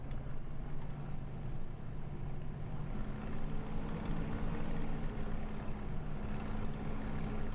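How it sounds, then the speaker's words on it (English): A Spitfire's piston engine in Microsoft Flight Simulator drones at a steady low rumble, even and unbroken, without talk. "But the engine sounds amazing."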